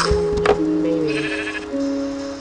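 Sheep in the Minecraft video game bleat several times in quick succession, short wavering calls over quiet game ambience with a faint voice early on.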